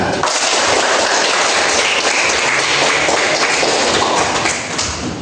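A classroom of students claps for a classmate, a dense, loud burst of applause that holds steady for about five seconds before easing slightly at the end.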